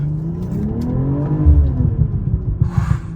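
A BMW engine revs and rumbles nearby, with a few sharp pops and crackles from the exhaust as the revs drop.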